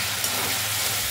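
Chopped tomato goes into a pan of frying onion, ginger, garlic and green chilli for moong dal with fish head, giving a brief, steady, close sizzle with no talking.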